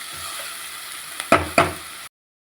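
Vegetables frying in a pan for semiya pulao sizzle steadily, broken by two sharp clattering stirs before the sound cuts off abruptly.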